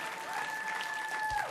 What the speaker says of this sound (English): Let's have one more round of applause for Kristen and Mark